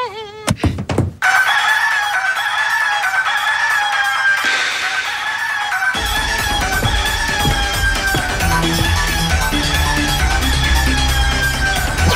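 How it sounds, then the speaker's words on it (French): A rooster crows loudly and up close in a long, drawn-out call, with clucking and other fowl noise that continue around it and a busy mix of sounds building in the background. "Cocorico!"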